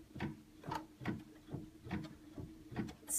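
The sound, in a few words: embroidery machine stitching out a chenille design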